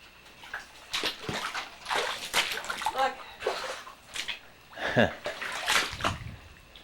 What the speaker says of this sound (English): You could probably hear the water splashing under my feet.